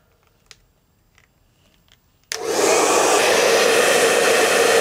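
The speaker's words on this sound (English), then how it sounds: "Apparently this is a 2000 watt hairdryer." A 2000 watt household hairdryer switches on after a couple of seconds of near silence with faint ticks, then blows a loud, steady, close whooshing roar of motor and airflow to the end.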